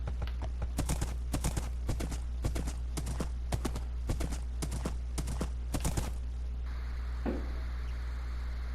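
Horse hooves gallop in Minecraft, a quick steady clip-clop run of about a dozen hoofbeats, close and clear, stopping partway through and followed by quieter ambient noise.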